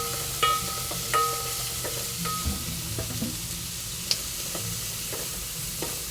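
Garlic sautéing in a pan, a steady close sizzle with a few sharp utensil clinks and scrapes as it is stirred.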